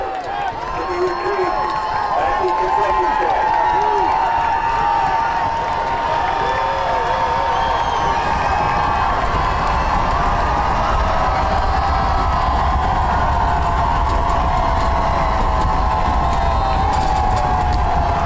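The home crowd at a Bedford versus Manchester Central high school football game roars and cheers continuously, with shouts and whistles rising over a broad wash of noise while a commentator talks over it.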